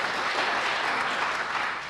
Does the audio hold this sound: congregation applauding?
yes